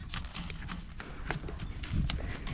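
A mare carries riders at a walk. Her hooves thud in a soft, uneven rhythm, fairly faint and close, with light background noise.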